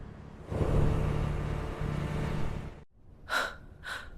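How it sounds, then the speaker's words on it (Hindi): Heavy, drawn-out breaths in a horror audio drama, a long loud rumbling exhale followed after a short pause by two sharper gasping intakes of breath, close and unaccompanied by speech. "भारी सांसों की आवाज।"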